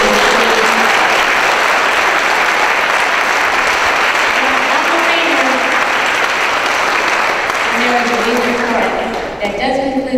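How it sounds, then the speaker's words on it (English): Sustained, loud audience applause fills a hall at the close of an awards evening for the Atlanta Press Club Hall of Fame, with some voices and cheers mixed into the dense clapping before it thins slightly at the end. "Let's give them all a round of applause."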